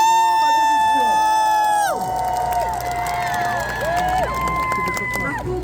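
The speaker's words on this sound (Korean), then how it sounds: "다시 한번 뜨거운 박수" Crowd at a political rally in Mapo, Hongdae, applauding and cheering, a dense, loud wash of clapping and shouts under a booming amplified voice and music.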